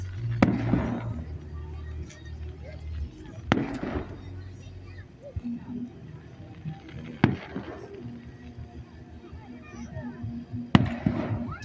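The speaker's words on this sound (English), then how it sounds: "Fireworks." Fireworks burst at Nashville Shores in a holiday display, with sharp booms every few seconds, each followed by a crackling tail. People chat nearby between the blasts.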